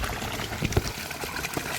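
Water gushing from a 1500W BLDC solar-powered motor pump, a steady close trickling and pouring flow with a few louder splashes, no talk over it.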